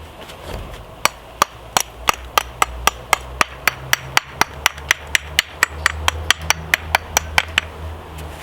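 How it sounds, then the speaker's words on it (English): Sharp hammer strikes chipping the edges of stone setts, about twenty-five evenly spaced cracking blows in a steady rhythm, close and loud over a low background hum. "I'm just going along with the hammer, just softening the edge"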